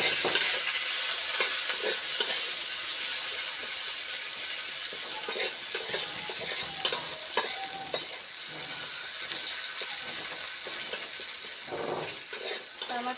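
Onions frying in a pan while a small-fish curry is being cooked, giving a steady, close sizzle with occasional clinks and stirring scrapes.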